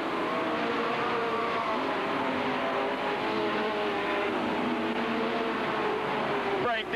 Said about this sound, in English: Moosebach's machine sounding awful ragged on the main chute as he slows and heads to the pits